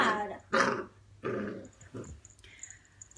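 A dog gives low, rough growls in several short rumbling bursts, close by and fairly quiet. Faint background noise and a few higher sounds follow.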